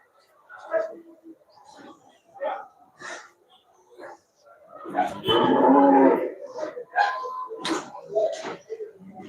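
Cattle mooing at the Melapalayam livestock market, with several low, drawn-out moos of varying length, one long loud call in the middle and scattered shorter lows, mixed with people talking nearby.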